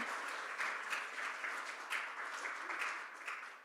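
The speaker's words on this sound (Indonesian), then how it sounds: "Tepuk tangan buat Tuhan" Steady applause from a church congregation during a Sunday service in Perth, an even wash of many hands clapping at moderate volume with no talk over it.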